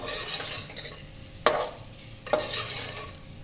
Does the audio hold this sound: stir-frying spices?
yes